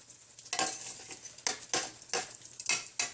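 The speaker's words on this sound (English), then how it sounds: "You want to keep stirring it." Rice browning in a little oil in a pan is stirred in several distinct scraping strokes, each with a short sizzling burst, close and moderately loud with a steady frying hiss beneath, no talk.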